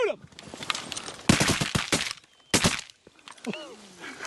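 Shotgun blasts ring out during a Texas duck hunt in a blizzard, several loud close shots in two quick bursts, with excited voices and duck calls between them.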